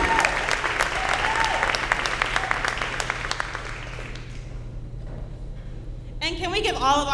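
Audience applause at a school leadership day honoring student MCs, a broad wash of clapping that fades out midway, with a voice speaking over the start and at the end.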